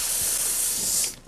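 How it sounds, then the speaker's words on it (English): A single sustained hiss of hair spray from an aerosol can lasts about a second, then cuts off abruptly. "I'm gonna spray it really quick with my Even spray."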